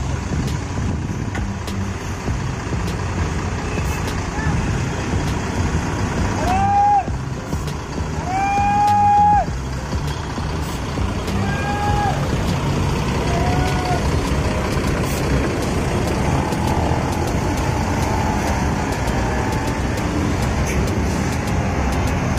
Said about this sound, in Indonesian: Nih armadanya mau diparkir dulu. Jetbus 3HDD.